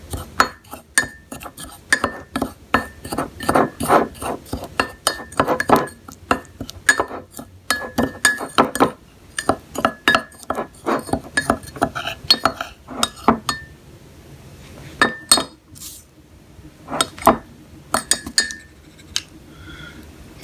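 A spoon clinks and taps against a glass while stirring honey and borax into an ant bait, giving many quick bright chinks in irregular bursts that thin out toward the end, with faint talk in places.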